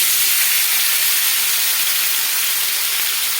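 Turkey mix goes into a hot pan with sunflower seed oil and sizzles loudly: a dense, steady hiss of frying that continues without a break.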